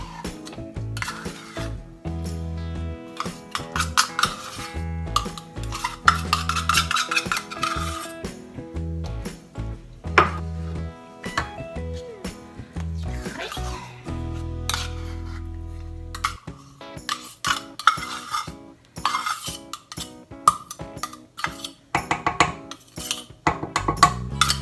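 Two cups of peanut butter being mixed into a peanut butter pie filling: repeated close scraping and clinking of a utensil against the bowl in an irregular, busy rhythm, with no voices.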